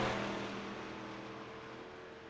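ARCA series race cars roar around Charlotte Motor Speedway on the last lap, a loud sustained engine drone that slowly fades as the pack passes.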